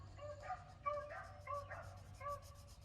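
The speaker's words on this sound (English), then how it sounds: "loud neighborhood dogs barking in my ear" Several dogs bark in short repeated bursts at a moderate distance, with a steady low hum running underneath.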